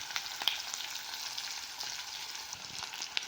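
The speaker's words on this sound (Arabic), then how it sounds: "نضيف البوتيتة، نطغيها شوية حمسة ويا البصل والزيت" Potatoes sauté with onion in oil, a soft, steady sizzle with a few small crackles and stirring clicks, quiet and close, with no voices.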